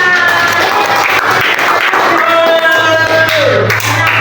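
Classroom group applauding during a Christian religious education teacher-training session, steady dense clapping over a room hum, with a faint tonal whine and some background chatter mixed in.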